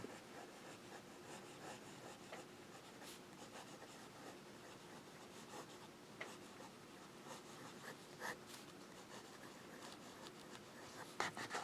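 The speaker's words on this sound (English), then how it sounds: "And we'll do some writing." Conklin All American Raven Black fountain pen with a medium nib scratching across paper, a faint, continuous close-up rustle of strokes with occasional small taps, quiet and without talk.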